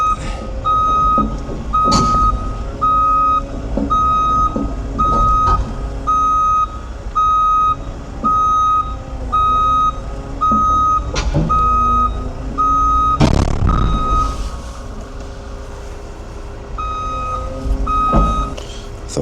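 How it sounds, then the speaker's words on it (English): Steady, evenly spaced reversing beeps repeat over the low rumble of a heavy haul truck carrying a new Cat 325 excavator at 106,000 lbs, with occasional clanks and air brake hisses. "Thought I could turn that beeping off. It doesn't seem to want to go off."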